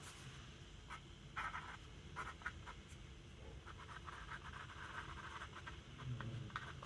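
An extra fine fountain pen scratches across Nanami Zen paper, faint close-up scratchy strokes in short repeated bursts over low background hiss.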